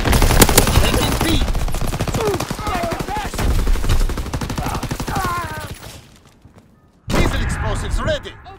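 Dense, rapid bursts of gunfire in Call of Duty WWII, with automatic weapons rattling almost nonstop, a brief lull, then loud shooting again. Voices call out over the battle.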